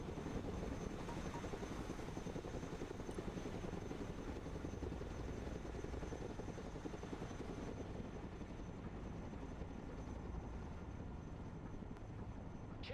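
A cargo helicopter flies with its hooks carrying a broken-down vehicle in the video game War in the Baltic. The rotor and engine drone holds steady and continuous, fairly faint, with no voices.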